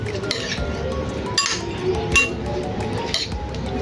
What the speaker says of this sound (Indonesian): Terus diaduk